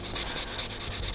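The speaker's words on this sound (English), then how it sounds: "Now I gotta do this sanding and degreasing process just once more" Hand sanding of Volvo 340 engine gaskets during engine assembly: a quick series of about ten rhythmic, hissy abrasive strokes, close and fairly loud, alone without talk.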